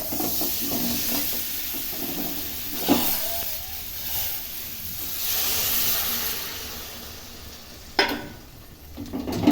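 Water goes into a pan of fried masala, setting off a loud hiss and sizzle with sharp bursts and bubbling, then a second splash near the end, all in a quiet kitchen.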